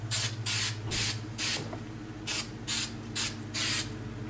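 Short hissing bursts from an aerosol cleaner can spraying onto an aluminum air-conditioner coil, about eight quick puffs in an irregular rhythm, close and fairly loud over a low steady hum.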